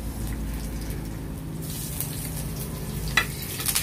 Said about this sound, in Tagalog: Lagyan na natin ng bawang.